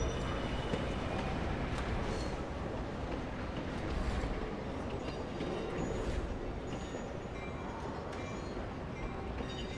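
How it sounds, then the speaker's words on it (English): A train rolls steadily along rails in the RailGrade video game, a continuous dense rumble and rattle of wheels and cars that holds at an even level. "I'll do a train in here"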